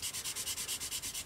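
Sanding sponge rubbed over a plastic 1/72 Airfix Jet Provost model kit part, a rapid run of about a dozen even back-and-forth strokes with a dry, hissy scratch, close and steady.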